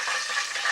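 Green chillies frying in hot oil in a pan, a brief steady hiss of sizzling with no voices.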